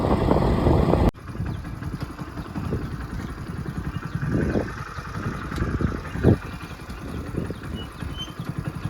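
A motorcycle engine idles and runs with a rough, continuous mid-range rumble and some clatter, close by at a village fair outdoors, with a loud jolt near the start and brief surges later.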